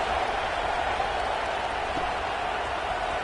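Football stadium crowd cheering during a kickoff after a scoring drive, a steady, distant wash of roar and applause filling the space with no distinct voices standing out.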